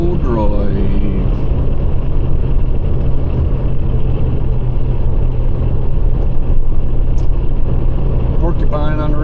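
Car driving along a road, a steady loud engine and road rumble heard from inside the vehicle, continuous throughout with a voice speaking briefly at the start and end.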